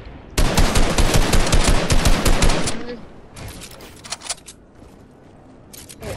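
Rapid automatic gunfire in the video game Fortnite, a loud sustained burst of shots for a couple of seconds followed by scattered fainter shots and clicks, with brief speech underneath.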